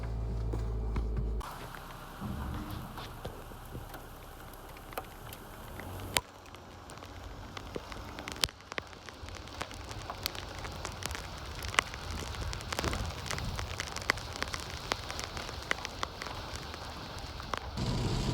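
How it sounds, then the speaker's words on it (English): Steady rain falls on a chilly spring night outdoors, a dense continuous patter of drops on surfaces with scattered louder close hits and a low hum underneath, no voices. "You know, you can hear that rain's picking up a little bit"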